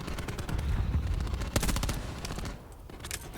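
Rapid automatic gunfire in a Call of Duty Search and Destroy esports match on the Frequency map, eUnited versus 100 Thieves: dense bursts of sharp shots, with a heavy cluster in the middle and scattered cracks at the end.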